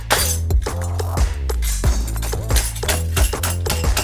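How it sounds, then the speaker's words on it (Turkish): Glass is struck repeatedly and shatters, a series of loud sharp cracks and tinkling breaks with scattered fragments clinking between hits. "Tamam kırıldı Kamil"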